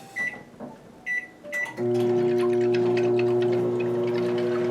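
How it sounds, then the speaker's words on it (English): A microwave oven beeps three times in short bursts, then its steady humming drone takes over and runs on, fairly loud and close. "Microwave is telling me it's done."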